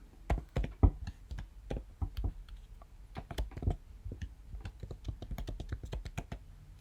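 Rapid, uneven keystrokes and clicks on a computer keyboard, close and fairly quiet, running steadily throughout with no talk.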